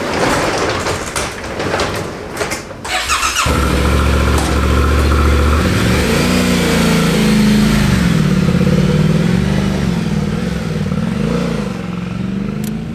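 A 2025 Yamaha Tenere 700 motorcycle engine while riding, starting with clattery mechanical noise, then a loud, steady low drone with rising and falling revs and strong wind rush, continuous and close.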